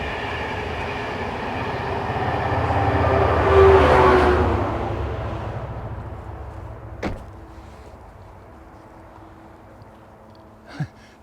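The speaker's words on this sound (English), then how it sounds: "They're freight trains mainly, aren't they?" A freight train passes near the Ebury Camping and Caravanning Club site, its rumble and rattle swelling to a peak and then fading, followed by a couple of sharp metallic clanks, with no talk.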